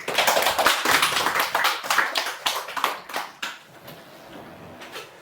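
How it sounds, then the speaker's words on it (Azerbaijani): A small group claps hands together in scattered, uneven bursts that gradually thin out and fade to quiet. "Alqışlayırıq."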